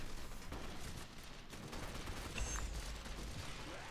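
Gunfire in Gotham City Impostors multiplayer on the Fumigation Docks map, a constant dense rattle of rapid shots and mechanical clicks that runs without a break at moderate loudness.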